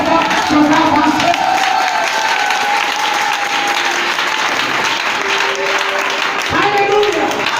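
A church congregation at a sermon bursts into loud, sustained applause and acclamation, a dense crowd of clapping and cheering voices carrying on throughout.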